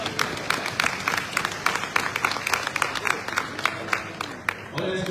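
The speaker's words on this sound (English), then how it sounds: "Please clap for me." A crowd at an indigenous people's summit in Lagos claps, giving a burst of uneven, individually audible hand claps that swell and thin out over several seconds, fairly close.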